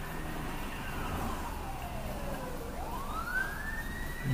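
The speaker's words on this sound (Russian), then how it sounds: "это скорая помощь. Реанимация." An ambulance intensive-care unit passes on a city street in Russia, its wailing siren sweeping down and then back up in pitch as it goes by, loud and clear over low traffic noise.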